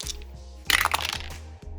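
Dice tumbling and clattering across a tabletop during a solo Dungeons & Dragons 5e session, a short burst of bright rattling clicks that settles within about a second, close and fairly loud, with no talking.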